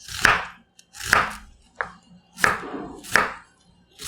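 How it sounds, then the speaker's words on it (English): A knife slices thinly through an onion on a cutting board, five firm close strokes in a slow, steady rhythm, each ending in a knock on the board. "then cut this onion. So you slice it thinly."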